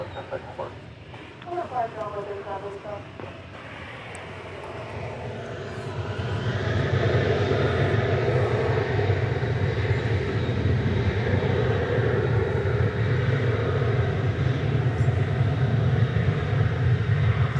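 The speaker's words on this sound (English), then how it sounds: "Here comes a flight from Fresno" Jet airliner arriving on a flight from Fresno, a low rumble rising after a few seconds into a sustained, louder engine roar, with a voice briefly heard near the start.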